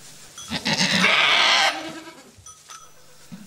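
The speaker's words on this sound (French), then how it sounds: "Celle-ci fait partie des chèvres qui crient." A goat lets out one loud, drawn-out bleat lasting about a second, close by, followed by quieter rustling.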